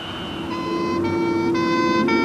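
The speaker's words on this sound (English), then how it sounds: "The ambulance is bunching up all the sound waves in front of it so the note is higher." An ambulance siren wails loudly over steady road traffic, its stepped two-tone pattern changing pitch at regular intervals as it passes close by.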